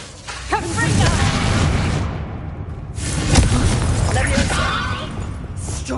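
A Confringo spell exploding in the game Hogwarts Legacy, with heavy booming blasts and crackling bursts that rumble loudly over several seconds amid combat noise, while a voice speaks over the action.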